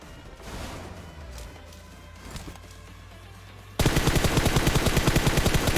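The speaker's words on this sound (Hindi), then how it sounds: "सामने भैया फायरिंग भी होने लगी थी बड़े तगड़े वाली" Gunfire rings out in the video game PUBG Mobile. Quieter distant shots and game ambience are followed by a sudden loud, rapid burst of automatic fire at close range.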